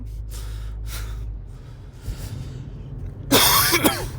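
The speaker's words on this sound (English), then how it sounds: "this coughing's annoying" A burst of harsh coughing near the end, loud and close, after a stretch of quiet background hum with faint breathy noises.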